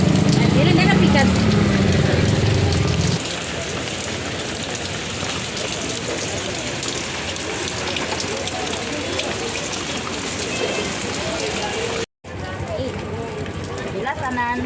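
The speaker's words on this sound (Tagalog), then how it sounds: "Kusog kayo ang ulan diri sa amoa busugod pa sa buntag." Heavy rain pours down in a dense, continuous roar, with a voice talking over it in the first few seconds and the downpour carrying on alone after.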